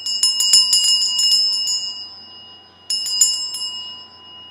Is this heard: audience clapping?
no